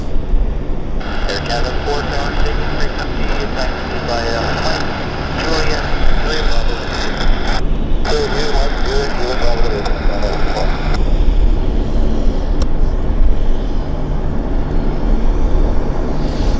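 A Boeing 777-200 airliner taxiing at Vancouver airport, its engines giving a steady, loud broadband roar and hum throughout with a brief dip partway, while a person talks over it.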